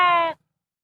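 A single loud, close sheep bleat rings out with a clear, wavering tone, then cuts off abruptly into silence.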